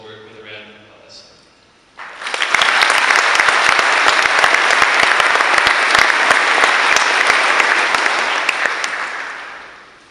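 Graduation ceremony audience breaking into applause after a valedictorian speech, a brief spoken lead-in then sudden loud, dense clapping from a large crowd sustained for several seconds before fading.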